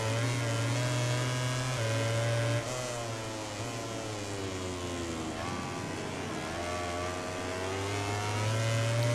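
Aprilia motorcycle engine in MotoGP 18 racing game, a loud continuous high rev with steady harmonic drone, pitch rising and falling through gear changes and throttle, close and alone without talk.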